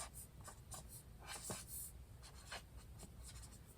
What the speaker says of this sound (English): I'll write it out here.